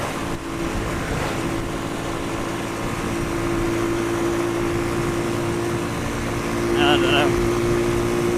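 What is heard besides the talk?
Pioneer Torro XF125S motorcycle being ridden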